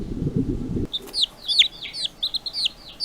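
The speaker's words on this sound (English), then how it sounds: "chicks," Chicks peep in a quick run of high, bright chirps, close and fairly loud, following a short burst of low rumbling noise.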